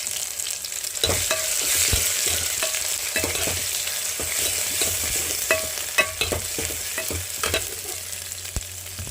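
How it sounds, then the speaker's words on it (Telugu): Browned onions fry with a paste of coriander, cumin and pepper, making a continuous close sizzle punctuated by repeated scraping stirs and clacks of a spoon against the pan. "ఆనియన్స్ అయితే బాగా బ్రౌన్ కలర్లో ఫ్రై అయింది కదా ధనియాలు జీలకర్ర మిరియాలు పేస్ట్ వేస్తాను"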